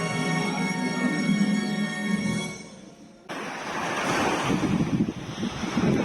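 Sea waves washing along the Cefalù seafront on a December day, a broad continuous rush of surf mixed with wind buffeting the microphone, growing louder and rougher in the second half, with no talk.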